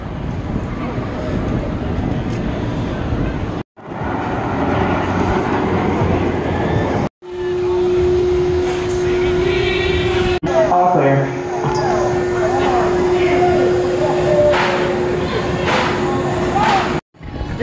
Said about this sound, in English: just got off Gatekeeper, and that was a pretty intense ride